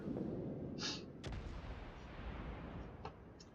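Naval guns firing from a Tier 10 Russian gunboat destroyer, the Khabarovsk, in a naval video game: a deep booming shot stands out amid rumbling battle noise, with lighter thuds following, heard fairly faintly.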